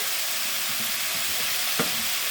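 Onions frying in a pan until reddish-brown for an aloo posto dish, a soft continuous sizzle with faint stirring scrapes and one brief clink, no talk.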